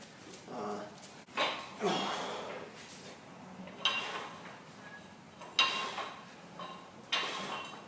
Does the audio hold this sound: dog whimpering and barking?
yes